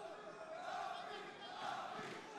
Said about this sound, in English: Now hear the crowd chanting David